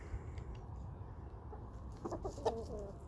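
A sexually mature hen clucks a few times, faint and somewhat distant, in a quiet outdoor setting with steady low background noise.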